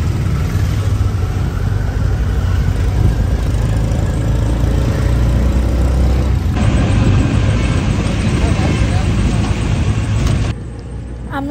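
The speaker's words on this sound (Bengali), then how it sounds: "এখন অটো করে চলে যাচ্ছি যাতে দেরি না হয়" Auto rickshaw ride through Bangalore traffic, with a loud continuous engine drone and road rumble heard from inside the vehicle, dropping slightly in the final second.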